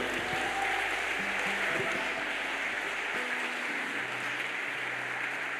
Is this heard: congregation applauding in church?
yes